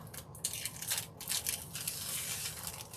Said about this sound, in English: I got this piece of foil stuck right there, so I need to peel that off